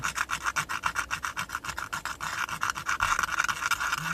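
A very coarse, high-grit disc grinds rhythmically against extremely hard material, a quick run of close, raspy strokes about five per second, loud and alone with no talk.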